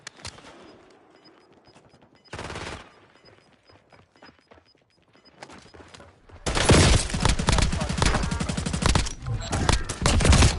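Video game gunfire erupts in a brief loud burst and then a sustained, dense fusillade of rapid machine-gun shots that dominates the second half, with quieter game sounds and faint voice chatter before it.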